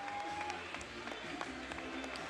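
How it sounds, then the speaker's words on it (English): After a knockout at an MMA event, the crowd gives a faint, distant wash of applause, steady and low under the hall's murmur. "The crowd applaud as he gets back to his feet here."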